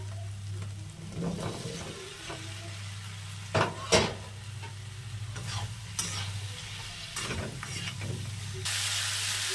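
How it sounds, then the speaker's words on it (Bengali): Lightly fried drumsticks and potato pieces go into a pan of well-cooked sizzling spice paste, with a steady low hum, scattered spoon scrapes and clatters, and a brighter sizzle swelling near the end. "এবার আমি সজনা ডাঁটা আর আলু হালকা করে ভেজে নিয়েছিলাম, ওইগুলো দিয়ে দেবো।"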